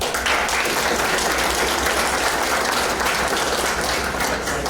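An audience claps steadily throughout, a dense, even wash of applause filling a hall at a Hall of Fame induction ceremony.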